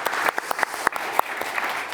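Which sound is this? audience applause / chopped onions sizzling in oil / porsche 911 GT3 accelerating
audience applause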